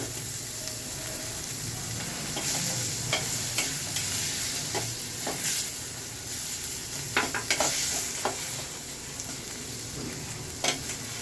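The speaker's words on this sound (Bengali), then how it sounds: "মশলাটা একটু ভালো করে ভেজে নেব।" Spices for chola bhuna sizzle steadily in a pan with chopped tomato and boiled potato, while a spatula scrapes and stirs in irregular strokes throughout, with no talking.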